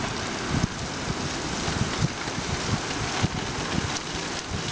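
Heavy monsoon rain pours steadily outside an open window onto a street and hillside, a dense, continuous hiss with scattered close drips and splashes.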